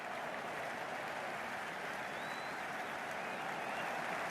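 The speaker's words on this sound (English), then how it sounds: "It's the most enthusiastic crowd you could ever see right now. There's a buzz, a real buzz coming from the stands." Steady roar of a stadium crowd cheering from the stands in the cricket video game Cricket 26, an England versus Australia T10 match under a roof, a dense continuous wash of noise holding level throughout.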